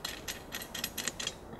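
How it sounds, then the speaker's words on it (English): A coupling nut spun onto a bolt while assembling a Granberg Alaskan MKIII chainsaw mill, a handful of faint, rhythmic metallic ratcheting clicks close by, quiet and with no speech. "And then we're going to put the coupling nut on top of that."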